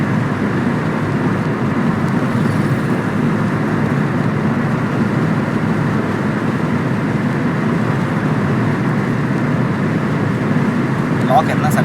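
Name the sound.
car driving on road at about 80 km/h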